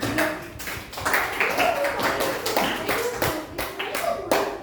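A grade 6 class applauding one another in a classroom, with dense, lively clapping from many children that comes in surges and has voices talking over it.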